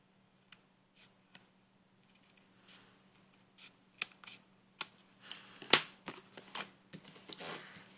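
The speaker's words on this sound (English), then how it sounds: "So now let me cut off the excess," Scissors trimming the excess paper off a grass layer on a handmade St Patrick's Day card, heard as sparse, quiet snips and rustles that grow denser and louder toward the end, with no talking.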